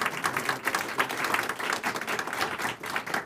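Diners at an astronomy society's annual dinner meeting give a round of applause, with scattered, uneven hand claps pulsing at a moderate level in the room.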